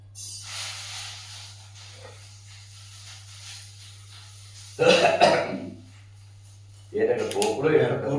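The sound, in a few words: coughing in the background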